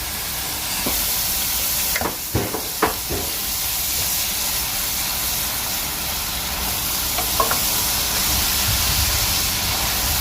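Butter and rice sizzle and hiss steadily in a frying pan for Nigerian vegetable fried rice, with a few scraping stirs of a utensil, close and continuous.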